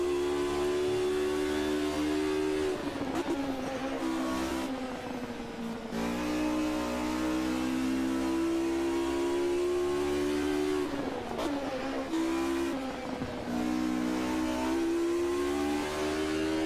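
Race car engines rev hard in the sim racing game Automobilista 2, with a steady loud harmonic drone that rises in pitch, drops sharply at each gear change and climbs again, with no talking.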